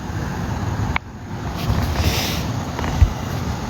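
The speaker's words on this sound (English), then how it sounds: "It's definitely wind blowing though." Wind gusts across an outdoor microphone in a steady broadband rush, swelling slightly mid-way, with a sharp knock near the start and another bump toward the end.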